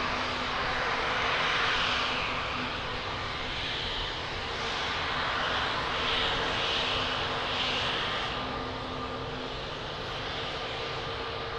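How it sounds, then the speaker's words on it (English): An airliner landing at Lisbon Airport, heard as a broad, steady engine roar that swells and eases slightly across the clip, fairly loud and continuous with no talk. "that was an amazing landing"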